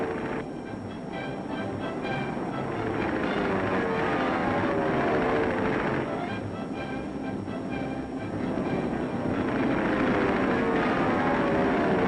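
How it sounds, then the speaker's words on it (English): Military bombers, fighters and pursuit planes fly in training formations, heard as a steady, heavy engine drone that swells and eases slightly throughout, with no voices. "Men training with bombers, with fighters, with pursuit planes."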